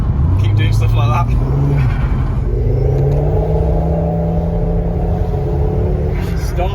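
A Volvo 850 T5 with its turbocharged engine pulls hard under acceleration, a loud close-up rumble rising in pitch through the gears, heard from inside the car with faint voices at the edges.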